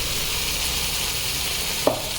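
Onion and tomato puree stirred in a pan give a steady, close sizzle and bubbling hiss that stays even throughout, broken by one sharp spoon clink near the end, with no voices.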